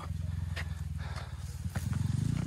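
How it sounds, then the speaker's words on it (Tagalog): A motorcycle engine runs steadily and close by on a Filipino road near a national high school, its low rumbling pulses swelling louder toward the end as it passes. "May motor tayong masasalubong."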